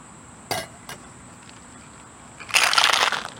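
A cold juice drink with ice is shaken in a cocktail shaker: two quick rattles, then a burst of vigorous close shaking near the end.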